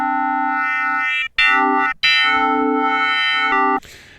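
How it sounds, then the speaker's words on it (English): Sustained, buzzy digital synth tones from an Arturia MiniFreak's Harmo oscillator, with bright stacked harmonics, holding steady notes with brief cutoffs between them, loud and up front. "you can get some really cool sound. Kind of very digital sounding"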